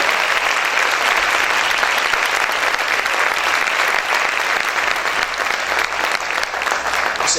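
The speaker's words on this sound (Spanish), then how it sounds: "Aplaude fuerte al Señor." A church congregation claps loudly and continuously, a thick, even wash of many hands applauding nearby that holds steady throughout without voices on top.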